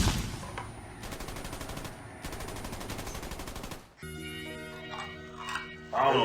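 Rapid bursts of gunfire crackle from a television or game in the background, a dense rattling volley for several seconds before cutting to a different scene with steady tones, while a person talks nearby.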